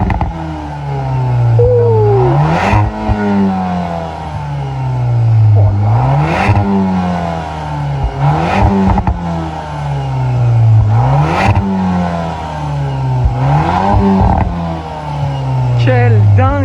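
A Volkswagen Golf 8R Performance with an Akrapovic exhaust, valves open, revs up and drops back about five times in a steady rhythm, each blip loud and close. People talk excitedly around it.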